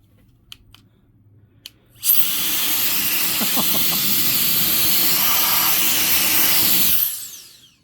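A battery-powered air duster blasts dust off computer fans, starting abruptly after a few quiet clicks and holding a loud, steady high-pitched rushing hiss for about five seconds before spinning down.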